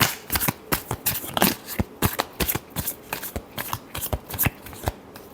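Tarot cards are shuffled by hand at close range, producing repeated quick riffling and slapping bursts in an uneven rhythm, steady and fairly soft, with no voices.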